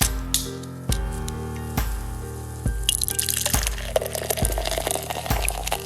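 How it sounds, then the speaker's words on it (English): Bulldog Amber Ale poured from a bottle into a glass, glugging pulses at a steady rhythm with a rising fizzy splash as the glass fills, close and clear with no talk. "You hear that sound and you know that I'm pouring a beer."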